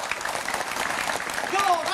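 A studio audience on a televised debate about Jakarta's governor breaks into brief applause, a short wash of clapping with a voice speaking faintly over the end.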